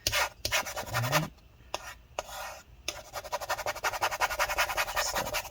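Rapid, close scraping and rubbing strokes as gunk is worked out during a battery replacement on an early-2015 13-inch MacBook Pro A1502, in short rhythmic bursts separated by brief pauses.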